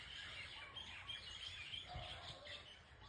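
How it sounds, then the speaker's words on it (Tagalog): Birds chirp outdoors during a walk, with faint, scattered calls set against a soft, hissy background. "Mayroong mga birds"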